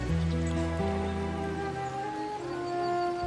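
Steady rain patters softly and continuously beneath a gentle musical backdrop, fairly quiet and even, with no voices.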